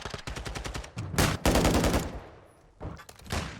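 Rapid machine-pistol gunfire in a Call of Duty match between Toronto Ultra and Seattle Surge: several loud bursts of automatic shots with short gaps between them, close and unaccompanied by talk.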